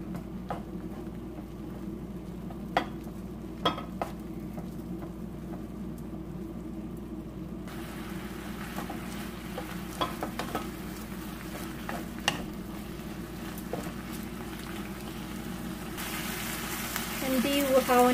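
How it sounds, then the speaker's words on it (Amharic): Cubes of meat for Ethiopian awaze tibs sizzle and get stirred in a dry pan with no oil, a steady close frying hiss with scattered scraping clicks throughout. "እና ዘይት ሳላረግ መጀመሪያ ብቻውን አበስለዋለሁ።"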